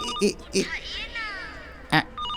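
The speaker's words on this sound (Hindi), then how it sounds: "ये रिंगटोन नहीं है आंटी, अलार्म है" A phone alarm tone chirps in short repeating electronic bursts, with a voice and other speakers talking over it, fairly close.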